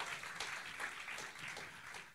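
A church congregation applauding during a Sunday sermon, heard as a faint, distant and continuous patter of many hands clapping.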